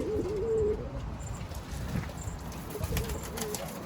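Pigeons in a loft, including Adana and tumbler breeds, coo softly and repeatedly among low rustling and shuffling, fairly close, with no talking.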